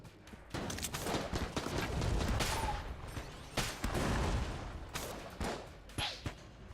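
Rapid gunfire from the fossilized gun in the video game Enter the Gungeon, a dense run of sharp overlapping shots with short bursts and brief gaps, loud and close, with no talk over it.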